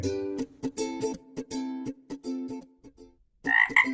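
A big cartoon frog croaks in a Bengali animated folk tale, giving a series of rapid, resonant croaks in uneven bursts, some doubled, followed by a brief pause and a brighter, louder croaking cluster at the end.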